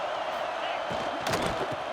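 Stadium crowd at a Notre Dame college football video game rising into a roar, continuous crowd noise with a brief louder surge, under a commentator's talk.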